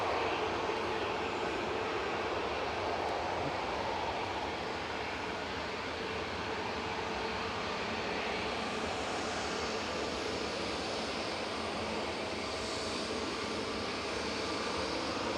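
An SAS passenger plane lining up on the runway at Manchester Airport gives a steady, distant jet engine rumble and whine that holds evenly throughout, with no voices.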